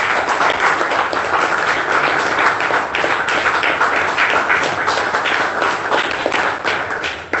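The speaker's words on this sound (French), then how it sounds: "Applaudissons pour le Seigneur Jésus-Christ." A church congregation applauds in steady, dense clapping that runs loud and unbroken from start to finish, with no voices rising above it.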